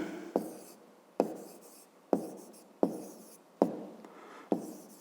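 Pencil or pen writing by hand on paper during a fifth-grade maths exercise: six short scratchy strokes, each with a sharp onset fading away, spaced roughly evenly and heard close and alone.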